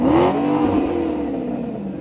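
A sporty car engine revs hard and close, a loud throaty roar that rises at the start then settles into a steady strained drone, with no talk over it.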